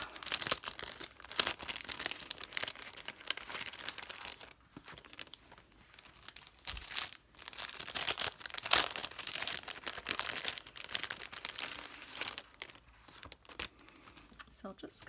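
Packaged embroidery threads from a sewing haul being unwrapped, with steady crinkling and tearing of plastic and paper wrap for the whole stretch, fairly close and continuous with brief pauses.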